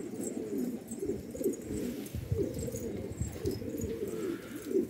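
Several pigeons coo in a loft, with soft repeated low warbling calls that overlap in an uneven rhythm. The calls are fairly close but quiet, and no one speaks.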